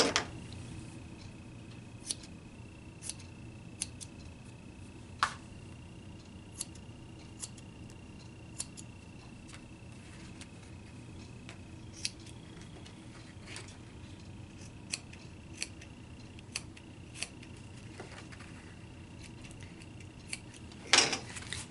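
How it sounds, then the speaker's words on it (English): Scissors snip away excess fabric while sewing a pair of pants, a series of faint, sparse clicks spread over a quiet background, with one louder snip near the end. "Now I'm just going to trim away the fabric."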